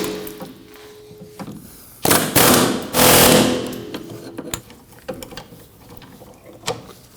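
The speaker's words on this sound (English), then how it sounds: "Now I'm going to use an air hammer with a socket bit on each of the heads of the bolts." Air hammer fitted with a socket bit pounding on rear hub bolt heads of a 2003-2006 Subaru Baja: two loud, rapid rattling bursts of about a second each, with scattered metallic clinks before and after.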